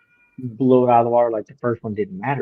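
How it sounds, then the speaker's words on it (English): A domestic cat meows loudly and close by in a drawn-out, wavering cry that overlaps with someone talking. "that's my cat"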